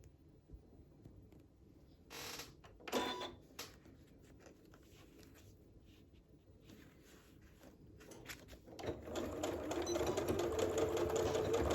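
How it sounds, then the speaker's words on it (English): Sewing machine stitching a tote bag, starting with a few soft clicks and knocks, then a rapid steady mechanical whirr of stitching that builds near the end, close and clear. "That needle is lowered 1/4 inch in, and we'll get stitching."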